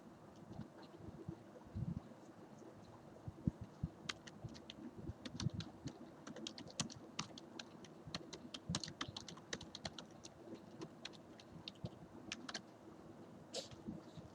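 Steady bursts of keystrokes on a computer keyboard while HTML code is typed during a web design lesson, close and clear with irregular rhythm across the whole stretch and no talking.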